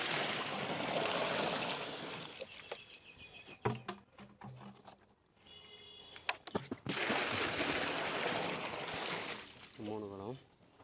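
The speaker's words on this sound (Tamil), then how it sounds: "ஸோ இதில் வந்து தண்ணி வந்து ஆட் பண்ணிக்கிறேன்" Water from a pot is poured into a refrigerator-box koi carp tank setup, a close, rushing gush in long pours broken by pauses and clattering handling noises.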